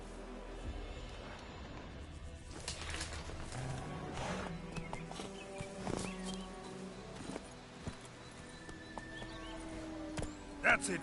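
Roach, a horse in The Witcher 3, clip-clops steadily on hooves throughout, with a neigh and snort near the end, over a bed of ambient game music and environmental sound.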